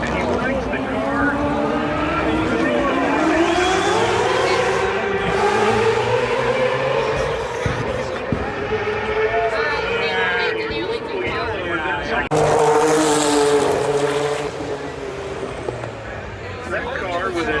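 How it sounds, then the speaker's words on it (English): An Eagle Toyota GTP prototype race car with an inline-4 Toyota engine in historic Camel GTP racing at the Long Beach Grand Prix, a sustained loud engine drone rising and falling steadily past the circuit, with a sharp surge near the end. "That car with an inline Toyota 4 engine."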